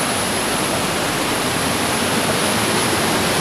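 A river stream rushes continuously nearby, a dense unbroken hiss of flowing water with steady loudness and no voices.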